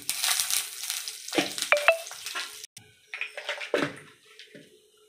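Cumin seeds hit hot mustard oil in a pan with sharp bursts of sizzling and stirring. Loud crackling surges fade into quieter gaps, heard up close without speech.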